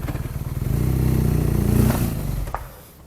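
A 2018 BMW R nineT Racer motorcycle is ridden into a showroom, its engine rumbling loudly and close, with some clatter, before the sound drops away at the end.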